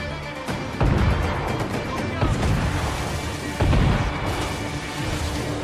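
Heavy cannon fire from enemy ships in a naval battle in Assassin's Creed IV, with deep booming blasts landing near 0.8 and 3.6 seconds over a constant rumbling battle din.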